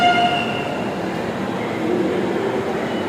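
A metro train pulls into a busy city station with a rumbling, rolling roar; a brief high tonal whine or horn sounds at the start, then the steady clatter and hum continue.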